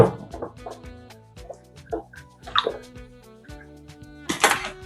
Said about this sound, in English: I'm just pouring in some water.